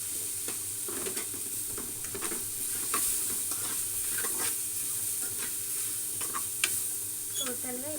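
Sanangi leaves fry in a pan for tomato chutney with tamarind, producing a continuous close sizzle broken by scraping stirs, with occasional faint voice sounds in the background.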